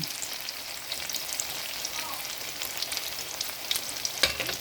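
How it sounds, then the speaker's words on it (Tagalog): Tofu sautéing in a pan as it browns, a steady close sizzle and crackle of frying oil running without pause, with light stirring scrapes near the end. "Gigisa-gisa ko lang muna yung kapapabag-brown brown."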